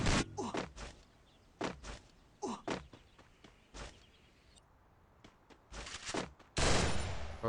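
Bursts of gunfire in the Free Fire mobile battle game: several short volleys and single shots scattered over a few seconds, followed by a loud sustained burst near the end, with quieter gaps between.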